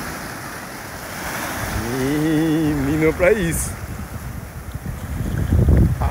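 Ocean surf surges onto an eroding beach at Pau Amarelo in Paulista, Pernambuco, a steady windy roar with a swell near the end, as someone speaks over it.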